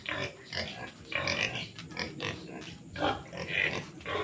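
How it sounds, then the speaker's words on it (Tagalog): Native pigs in a backyard piggery on a farm lot in Liliw, Laguna grunt and snuffle close by, a busy, uneven run of rough oinks with no talking. "Ayan, may mga native na baboy pa dito sa alaga."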